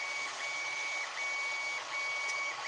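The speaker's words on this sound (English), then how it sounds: "The printer is printing a project box" A 3D printer printing a project box gives off a steady whirring hiss with a thin tone that rises and pauses in repeating intervals, continuous and moderately close.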